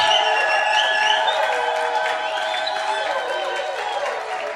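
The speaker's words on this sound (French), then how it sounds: "Une bonne offrande d'acclamation à Jésus." A church congregation claps and cheers during a worship service, with shrill joyful cries rising over dense, continuous crowd noise that fades slightly toward the end.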